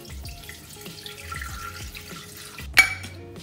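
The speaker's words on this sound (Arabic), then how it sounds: "نخرجو الميزان وغادي نديرو 430 g ديال الماء" Water poured from a tap into a Thermomix bowl for baguette dough, a steady close trickle running throughout with a brief louder splash or clink near the end, no talking.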